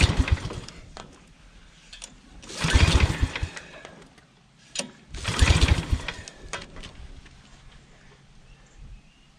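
A Toro commercial walk-behind lawn mower engine is pull-started several times, with two strong bursts of cranking and sputtering separated by quieter pauses, recorded close up.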